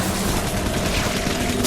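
Sustained dense gunfire in Bioshock 2, a loud continuous roar of overlapping shots and booms filling the whole moment without pause.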